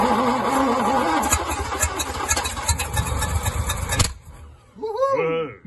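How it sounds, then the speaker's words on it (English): A flooded Humber Super Snipe engine cranks and sputters for about four seconds with uneven, rough firing, then cuts off abruptly, followed by rising and falling whine-like voices or tones; talk is heard nearby. "Right, Super Snipe starting."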